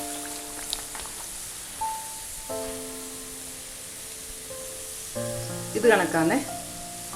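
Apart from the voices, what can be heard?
parippu vada (chana dal fritters) frying in oil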